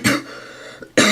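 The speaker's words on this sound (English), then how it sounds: "I have a nasty cough right now." Two harsh coughs, one at the start and one at the end, with a quieter stretch of breathy noise between them, close and loud.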